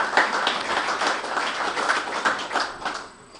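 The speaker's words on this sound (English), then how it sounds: "I think we can give him another round of applause." An audience at the Absa Top 10 Pinotage award ceremony gives a round of applause, a close, lively patter of many hands clapping that fades away near the end.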